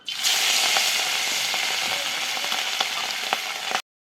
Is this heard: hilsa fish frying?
yes